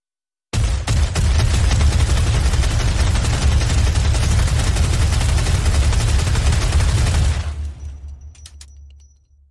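An MG08/15 machine gun fires in Black Ops Zombies, a loud, unbroken stream of rapid rounds lasting about seven seconds before stopping abruptly and leaving a fading rumble with faint clinks.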